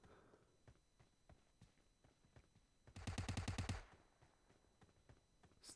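Gunfire in PUBG Mobile: a quick burst of about eight rapid automatic shots, fairly close and loud, set between quieter footsteps that come before and after it.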